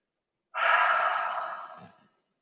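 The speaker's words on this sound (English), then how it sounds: "Take a breath." Someone lying face down with a cheek on the mat in a Bikram yoga relaxation pose lets out one long, soft breath, close and alone for about a second and a half.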